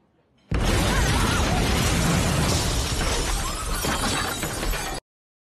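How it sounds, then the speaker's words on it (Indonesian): A film explosion at a hotel entrance: a sudden loud, broadband blast with shattering debris that stays dense and roaring for about four and a half seconds, then cuts off abruptly. "sebuah ledakan terjadi di pintu masuk hotel"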